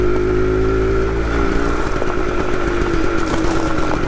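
A Harley X-90 Shortster mini motorcycle's small engine running close by, a loud, steady buzzing drone that carries through the whole clip.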